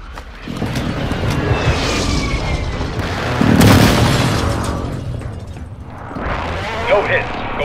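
Airstrike explosions in Call of Duty: Warzone 2 land as heavy rumbling booms, a loud blast in the middle and further impacts near the end, over a busy in-game soundscape.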